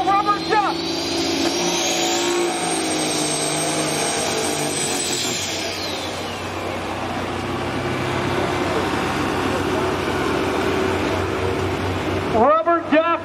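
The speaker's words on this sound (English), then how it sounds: "1887 Max Superliner with a Cummins KT 1150 engine." A pro stock semi truck, an 1887 Max Superliner with a Cummins KT 1150 engine, roars at a county fair tractor pull, a loud sustained engine drone with a rising whine early on and revving bursts at the start and near the end, under announcer talk.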